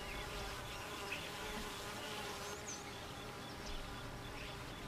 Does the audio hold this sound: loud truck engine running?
no